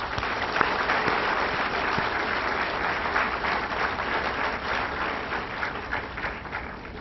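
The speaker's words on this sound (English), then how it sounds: "let's welcome him with a big applause" Audience applause welcoming a guest at a university event, a steady, dense round of many hands clapping that carries loudly and evenly throughout without voices.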